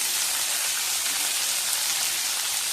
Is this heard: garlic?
yes